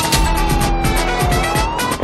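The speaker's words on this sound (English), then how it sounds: "Turn off the freaking sirens, Ella." A loud, continuous police siren in a video game wailing up and down, close and steady throughout, with rhythmic pulsing and engine rumble beneath.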